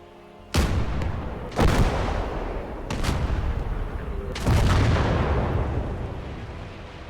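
A 105 artillery gun in a war video game fires four heavy booming shots spaced a second or more apart, each with a long rumbling decay under continuous battlefield noise.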